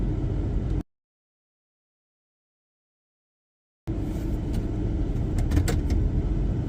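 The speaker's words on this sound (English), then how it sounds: "We just had one of the big pusher buses come in." A big pusher bus pulls into a travel center truck stop in Brunswick, Georgia, its broad engine rumble steady and fairly close, broken by a few seconds of silence before the noise resumes.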